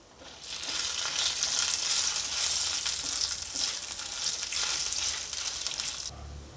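About ten dry red chillies fry with cumin and coriander seeds in hot oil, giving a loud, dense, continuous sizzle that starts abruptly and cuts off near the end. The sound is close, with no speech.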